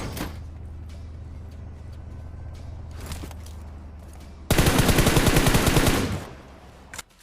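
Gunfire in the BGMI mobile battle royale game, a dense burst of rapid automatic shots lasting about a second and a half while knocking down an enemy, preceded by quieter in-game ambience and a few faint clicks.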